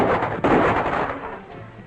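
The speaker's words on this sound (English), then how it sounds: "Rifle shot." A single loud rifle shot cracks out at once in an old jungle adventure film, followed by a rumbling blast and a decaying echo that fades over the next second.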